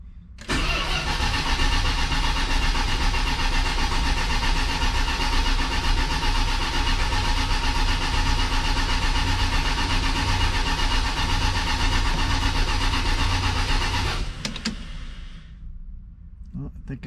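A 1979 Dodge Lil Red Express truck engine cranks and fires after six months of winter storage on a chilly day, then holds a loud, steady, close idle for about fourteen seconds before cutting off.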